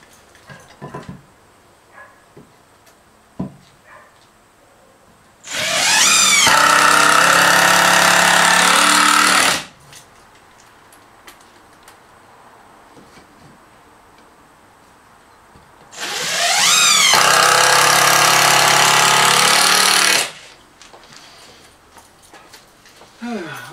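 Screws are driven into a workbench with a power driver in two long, loud bursts of whirring motor sound, each lasting several seconds, separated by quieter shop noises and small knocks.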